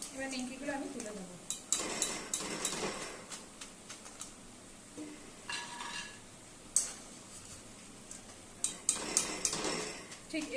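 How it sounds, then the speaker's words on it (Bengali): Fried nimki are lifted out of hot oil in a wok with a metal utensil, making repeated close clinks and scrapes of metal on the pan, in irregular bursts over a faint sizzle. "এবার নিমকিগুলো আমি তুলে দেবো।"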